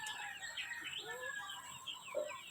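Pet chicks about two weeks old peeping in high, rapid chirps and short trills, fairly faint against a quiet background.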